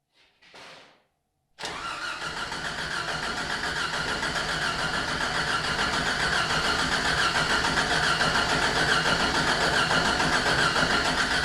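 A Jeep Comanche fitted with a Speeduino ignition swap cranks briefly, then catches and settles into a steady, loud idle that runs on alone.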